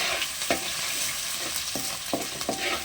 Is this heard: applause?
no